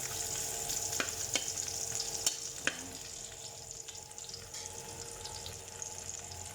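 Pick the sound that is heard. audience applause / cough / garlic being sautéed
garlic being sautéed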